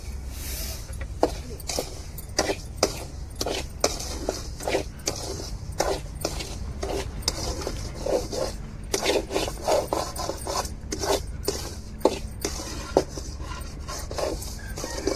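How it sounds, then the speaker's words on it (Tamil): Semolina (rava) roasted and stirred in ghee in a pan for kesari, a steady run of scraping, rasping strokes from the spoon at close range, with no talk. "நம்ம இந்த நெய்யிலேயே ரவையை வறுத்து எடுத்துக்கிடுவோம்"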